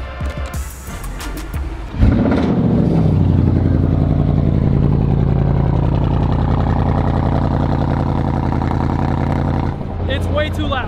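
A loud stage 3 Audi S6 drives along with a deep, steady droning exhaust rumble that swells after a brief lower start, heard from inside the car with someone talking over it.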